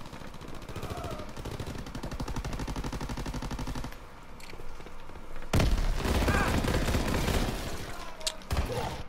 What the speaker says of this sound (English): The fire rate of that gun is so slow, right?